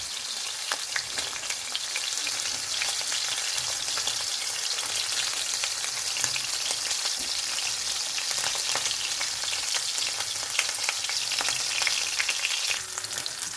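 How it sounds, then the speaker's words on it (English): Rack of lamb sears in a hot pan, a loud, continuous crackling sizzle with scattered sharp pops throughout and no voices. "That's the sound you want, not boiling, sizzling."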